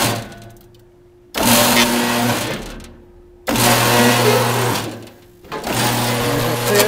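A Liberty half round reverse bead gutter machine runs in bursts as material feeds through, a loud steady mechanical whir that starts, stops, and restarts in three distinct runs.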